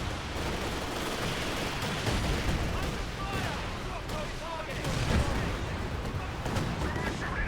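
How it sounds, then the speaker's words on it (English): A Mattress Barrage rocket artillery strike rumbles and crackles in a competitive video game match, with repeated booming impacts and gunfire layered into a dense, continuous battle din under a commentator's voice. "there's another Mattress Barrage"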